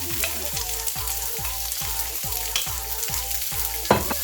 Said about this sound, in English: Next I'm going to just put in all of my peppers.